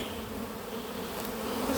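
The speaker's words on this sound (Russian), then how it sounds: "Ну и дальше я должен стрясти всю пчелу из 300 рамок" Honey bees being shaken off hive frames, a dense, steady swarm buzz that fills the space close by and swells slightly toward the end, with no talking.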